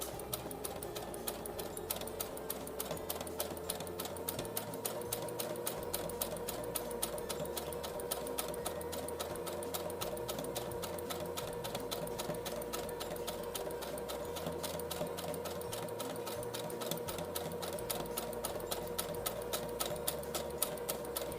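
A sewing machine stitching fabric for a hat runs continuously with a rapid, even mechanical stitching rhythm, close and fairly quiet, with no voices.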